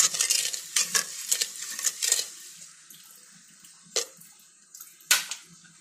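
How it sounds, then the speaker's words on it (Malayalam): Sugar being stirred by hand into a homemade grape wine mixture, a spoon scraping and clinking against the vessel in a run of quick strokes that slow into a few sharper, separate taps, close and alone. "ആ പഞ്ചസാര ഒന്ന് ഡിസോൾവ് ആകുമെന്ന് നമുക്ക് തോന്നുന്ന സമയം വരെ പതുക്കെ മിക്സ് ചെയ്ത് കൊടുക്കുക"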